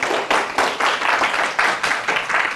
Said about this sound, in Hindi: इनके लिए बहुत सारी तालियां बजाएं।